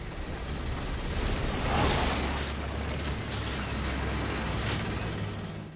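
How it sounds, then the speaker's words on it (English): A giant nuclear explosion effect from an Indiana Jones film, a loud sustained roaring rumble that swells near the start and keeps churning at full strength without a break. "and of course the giant nuclear explosion"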